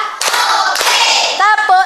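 Children in a classroom clap game clap their hands in short bursts and quick rhythmic patterns, loud and close, with a teacher's voice calling out between the claps.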